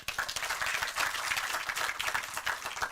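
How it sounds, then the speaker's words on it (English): An audience in a theater seminar hall applauds steadily, dense continuous clapping filling the room without a break from start to finish, with no voices rising above it. "please give an applause to Ville."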